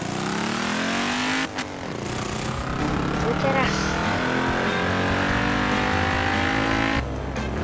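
A BMW Isetta microcar driven in Forza Horizon 4: its small engine drones loudly and continuously, revving and straining at speed, with brief tire squeal and a sharp knock partway through.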